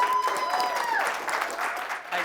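Audience at a partner conference applauds to welcome speaker Suzi Carter, a moderate burst of clapping with some whistling tones over it, fairly close and continuous.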